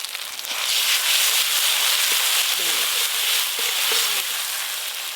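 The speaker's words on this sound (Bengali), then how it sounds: "এই মশলাগুলো খুব বেশিক্ষণ কষতে হয় না, একটু হালকা করে কষে নিয়েছি" Mustard, poppy seed, dried red chilli, whole cumin, turmeric, salt and chopped tomato sizzling in mustard oil for a fish curry, a steady close frying hiss with a few stirring scrapes.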